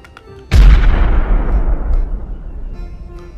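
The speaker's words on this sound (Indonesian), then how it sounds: "ada granat teman-teman. Kita lempar ya." A toy grenade from a Nerf-style gun collection goes off with one sudden, loud boom that decays slowly over about three seconds, following a quiet lead-in.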